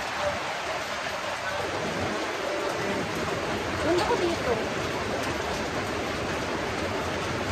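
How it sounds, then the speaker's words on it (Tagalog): Heavy rain at a mountain campsite makes a constant, moderate hiss throughout, and a person speaks briefly partway through. "Ang lakas ng ulan."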